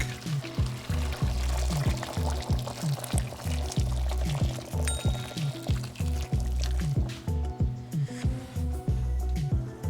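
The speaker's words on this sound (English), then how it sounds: "add 2 cups of warm water into the pork" Two cups of warm water pour into a pot of brown stew pork, a continuous liquid stream with a rhythmic, glugging pulse running through it.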